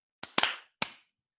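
Several people clap for nurses in a few sharp, separate slaps: one, then a quick close pair, then a final lone clap, each loud and dry against silence.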